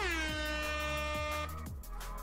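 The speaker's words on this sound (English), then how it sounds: "Single air horn for tonight." A loud air horn blares in one sustained blast, shifting pitch slightly before cutting off near the end.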